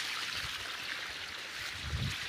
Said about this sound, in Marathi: आता ते माळ्यातून पाणी चालू आहे.